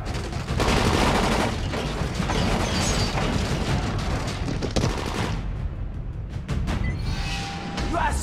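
A rapid, sustained stream of gunshots crackles loudly and densely for several seconds, then thins out into scattered mechanical clicks and rattles as the firing stops; no one talks.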